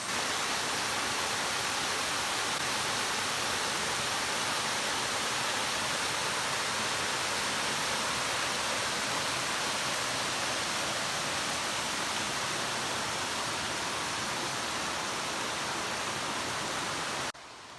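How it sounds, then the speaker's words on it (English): Water rushes over rocks on a big waterfall along a canoe route in Killarney in fall, a dense, steady roar that stays loud and unbroken for nearly eighteen seconds. "And then this big rush of water coming over the rocks."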